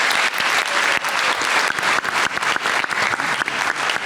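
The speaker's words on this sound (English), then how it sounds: "another round of applause for our great moderator, Danielle Squires" An audience applauds at a panel event, dense and steady clapping from many hands filling the room at close range, with no talk over it.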